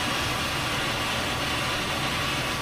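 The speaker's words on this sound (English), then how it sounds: "My air conditioner is making a weird sound." An indoor air conditioner with an odd fault gives off a steady, loud broadband whooshing hum that holds constant throughout, with no voices.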